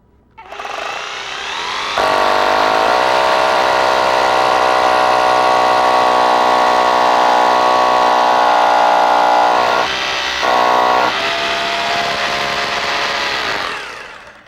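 A hammer drill bores a small hole into concrete for a concrete bolt, its loud motor drone holding steady for over ten seconds with a brief break near the end before stopping.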